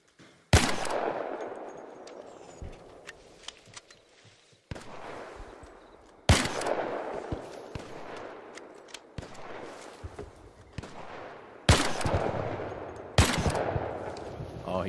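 Gunfire in Arc Raiders: several loud, sharp shots and short bursts ring out at irregular intervals, each trailing off in a long echoing decay across an open space, with a few fainter distant shots in between.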